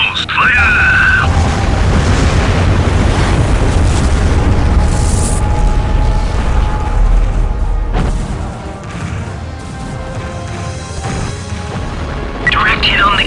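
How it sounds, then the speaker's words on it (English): Deep booming explosions roll out in the Starlancer space game as torpedoes strike and a ship blows up, heavy rumbling blasts sustained for several seconds with voices talking over the din. "Direct hit on the Kirov, sir. She has been destroyed."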